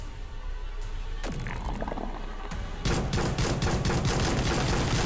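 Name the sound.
pistol gunfire in VR video game Neuro Hacker: Intrusion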